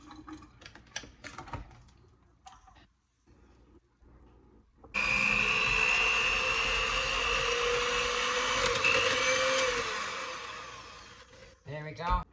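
An electric hand mixer beating mashed potato topping for shepherd's pie, starting abruptly and whirring loudly and steadily for several seconds before cutting off, with kitchen clatter before it.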